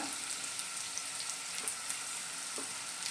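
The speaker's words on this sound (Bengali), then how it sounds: "এবার এর মধ্যে দিয়ে দিচ্ছি 1 টেবিল চামচ আদা বাটা" Spinach and cauliflower fry in a pan as ginger paste goes in, a low continuous sizzle with occasional small pops and spatters, faint and steady.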